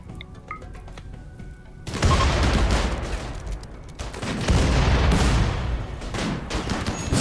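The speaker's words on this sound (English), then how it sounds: "let's get out of the gunfire" Rapid volleys of gunfire in the RimWorld video game during a large fight, dense bursts of shots and booms crowding over each other, loud and continuous after a brief quieter opening.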